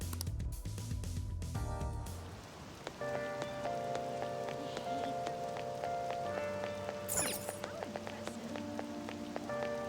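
Rain falls steadily in Persona 5, a dense, even patter heard throughout, with occasional game tones and chimes over it.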